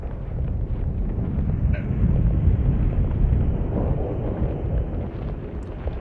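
Explosion in the tactical real-time combat RPG Dark Envoy, a broad low rumbling blast that swells in the middle and rolls on as a dense, muffled roar for several seconds, with no talking.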